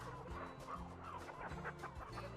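Hungry chickens at a poultry farm cluck steadily at feeding time, a dense close chorus of overlapping calls with no talking.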